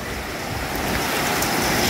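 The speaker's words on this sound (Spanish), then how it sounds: "así es la gran correntada" Strong storm current of the Lempa River near Caserío El Ahogado in Metapán churns as a steady, loud, broadband roar of rushing water, unbroken and close, with wind buffeting mixed in.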